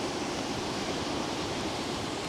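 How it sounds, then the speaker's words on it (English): Ocean waves breaking on a shore beside a scenic viewpoint, heard as a steady, dense broadband wash with no distinct individual breakers, fairly loud and continuous, with no talking. "Love the sound of the waves."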